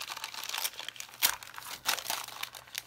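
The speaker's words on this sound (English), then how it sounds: "I'm going to go ahead and rip this part of the envelope" A paper envelope being torn open by hand, close and fairly quiet, with a few crisp rips and crinkling bursts spread irregularly over a few seconds, no talking.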